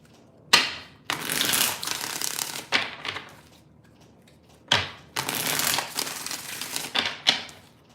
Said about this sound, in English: Two more shuffles, two more.